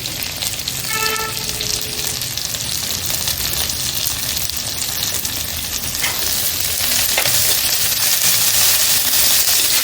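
Onions and coriander sauté in a mud pot for chicken gravy, producing a loud, even, continuous sizzle with light crackles throughout.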